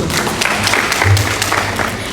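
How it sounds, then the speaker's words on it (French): An audience applauds a youth ministry representative at a 2022 university semi-final event: a steady wash of many hands clapping, dense and close, with a faint low hum underneath. "Applaudissez-le,"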